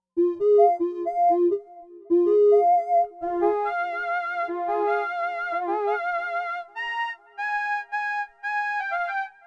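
A vintage Akai AX60 analog polysynth plays a melody, clear bright sustained notes in a lilting rhythm that climb from low phrases to higher repeated figures, close and alone.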